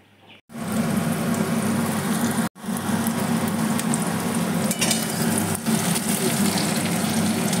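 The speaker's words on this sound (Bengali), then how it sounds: "এখানে ডিমের জন্য আলু ভেজে নিচ্ছি" Potatoes frying in hot oil for a Bengali egg curry sizzle loudly and steadily at close range, a dense unbroken crackle with two brief cut-offs near the start.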